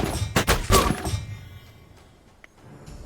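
Crossbow units firing in the fantasy strategy game Songs of Conquest: a quick cluster of sharp thunking releases up front, then quieter scattered impacts trailing off alone.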